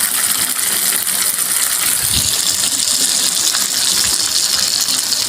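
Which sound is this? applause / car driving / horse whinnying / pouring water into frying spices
pouring water into frying spices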